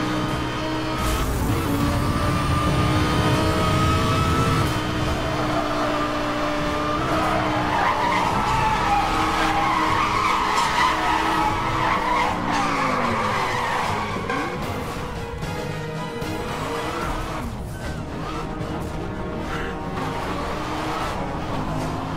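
In the video game Need for Speed Hot Pursuit, a racing car roars along at high speed with long, loud tire squeals and skids that rise and bend as the engine revs, sustained and close for the whole run.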